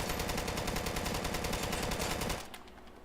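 Rapid automatic gunfire in the shooter game Deadside, aimed at an enemy turret at an airfield: a loud, close, fast-repeating burst that cuts off sharply near the end, leaving quiet ambience.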